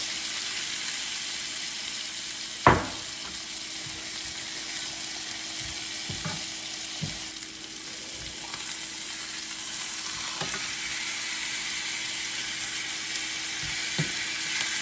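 Pork seasoned with Lawry's and Worcestershire frying in a pan, a steady close sizzle broken by a few sharp clatters and scrapes of stirring, no voices.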